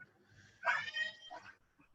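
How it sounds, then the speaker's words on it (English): A dog makes a short whimpering, yelping sound that carries faintly in the background of an online group video call; people talk around it. "I hear someone's dog."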